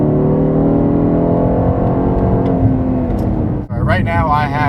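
A 2018 Aston Martin DB11 V8 engine revs loudly and smoothly, rising in a steady climb before it drops off sharply and then picks up again.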